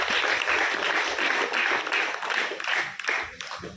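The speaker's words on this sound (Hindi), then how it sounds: "ताली बजाकर स्वागत करेंगे प्रातः जी का।" An audience claps steadily and loudly to welcome a guest onto the stage at a Brahma Kumaris Guru Purnima gathering, a dense, sustained applause throughout.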